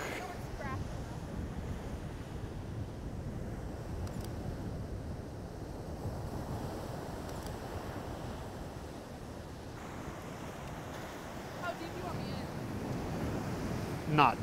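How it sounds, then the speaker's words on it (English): Ocean surf rolling in on Pensacola Beach, a steady wash of breaking waves mixed with wind noise on the microphone, continuous and fairly loud throughout. "I'm kind of waiting on waves, too."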